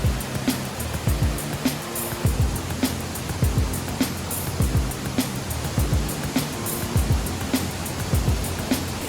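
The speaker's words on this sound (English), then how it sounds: "So that was the first waterfall" Water from a waterfall in a Vietnamese park pours down in a steady, broad roar, with a faint rhythmic thumping running underneath.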